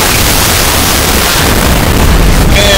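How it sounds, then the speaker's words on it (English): A loud, roaring video game explosion fills the whole moment as a dense, sustained blast of noise, with a faint tonal ring rising near the end. "Big, juicy explosion."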